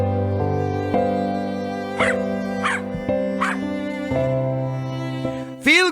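A pet dog lets out several sharp barks spaced over a few seconds, with drawn-out whining whimpers between them, close and clear, ending in a higher yelp.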